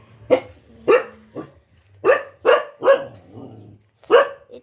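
A small dog barks seven times in short, sharp yaps, some in quick pairs and others spaced apart, close by and fairly loud.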